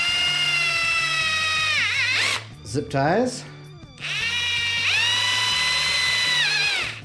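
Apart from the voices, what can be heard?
power drill drilling holes for zip ties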